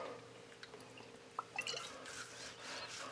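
Worcestershire sauce drizzled onto a beef brisket: faint, soft dripping and wet splatters, a few brief drops and patters over a quiet kitchen background.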